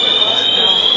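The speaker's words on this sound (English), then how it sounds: "fire alarm." Inside a shopping mall, a fire alarm sounds as a loud, steady high-pitched electronic tone that holds without a break.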